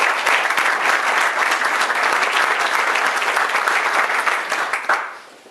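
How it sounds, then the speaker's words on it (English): An audience at a construction groundbreaking event for a hospital campus in Davie County claps loudly and steadily, a dense close round of applause that fades out at the end. "let's give him another round of applause"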